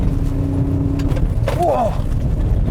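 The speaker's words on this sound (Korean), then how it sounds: "또 한번 가속을 해서 점프대를 통과를 해 보겠습니다" A Ford Ranger pickup drives hard over an off-road jump course, its engine a loud, steady drone throughout, with a brief whooshing and whining rise partway through as it pushes over the jump.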